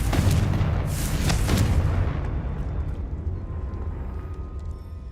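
Confringo explosion spell cast in Hogwarts Legacy, a loud booming blast with rumbling bursts that decays over a couple of seconds into quieter background.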